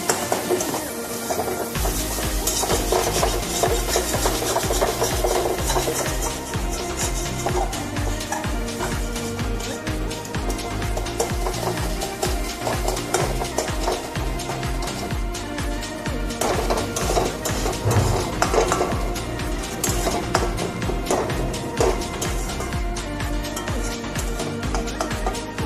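Shidol fish chutney being stirred in a pan, with a steady scraping and clinking of a utensil against the metal that runs continuously and close for the whole stretch.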